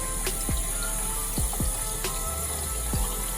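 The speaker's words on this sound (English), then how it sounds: "We're going to strain our potatoes in the sink." Boiled potatoes being strained in a kitchen sink, hot water pouring and splashing steadily into the basin with a continuous rushing sound and occasional gurgles.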